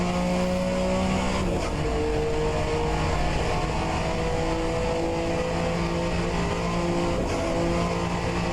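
In a Group C sportscar racing game at the Daytona road course, a race car engine holds a loud, steady high-rev drone with slight pitch shifts as it runs flat out down a straight.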